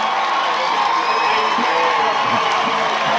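Fans of a Franklin high school football team whoop and yell from the stands, a steady wash of crowd cheering with scattered louder shouts rising out of the noise.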